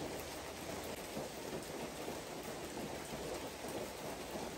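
Steady rain falling outdoors on a rainy day in Japan, an even, continuous hiss of drops at moderate level with no voices and no breaks.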